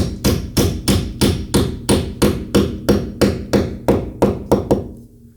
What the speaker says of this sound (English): use a hammer and smash it, drive the wall plug in